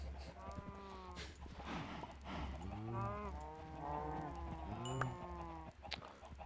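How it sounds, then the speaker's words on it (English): Minecraft cows moo repeatedly in low, drawn-out calls over a steady background drone, several moos overlapping at moderate volume. "We got to bury those two mooing animals."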